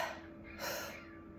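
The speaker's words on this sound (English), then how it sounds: "that's going to be more of a deep in the mouth, deep belly breath" A single deep belly breath taken through the mouth during a guided breathing practice, heard as a close, soft airy inhale swelling midway and then tapering off.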